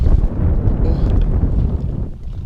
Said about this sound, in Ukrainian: Думав, що покльовочки, скоріше за все, хвиля та вітер.